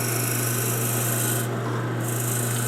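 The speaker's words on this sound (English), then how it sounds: "I have the bit in the drill and we're going to drill a hole right down through the middle here" Drill press boring a 7mm bit straight down through a piece of wood, a steady close grinding rasp that holds constant throughout with a brief dip midway.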